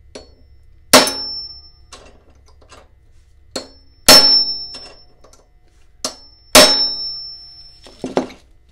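Three sharp metallic hammer taps seat a rear axle bearing snugly, each strike ringing briefly with a bright tone, spaced a few seconds apart with faint handling noise between.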